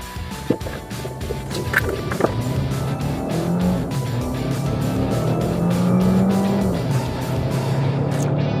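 A Renault Duster car accelerates hard from 0 to 100, its engine sound building steadily with rising pitch as it gains speed, recorded close with a couple of sharp knocks early on.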